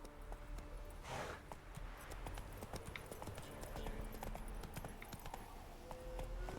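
Horse hooves clip-clopping at a steady trotting rhythm in The Witcher video game, a continuous run of crisp hoofbeats close up over a busy background.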